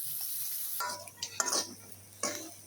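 Small puti fish frying in a pan in a home kitchen, a faint high steady sizzle with a few scraping and clinking stirs from a utensil against the pan.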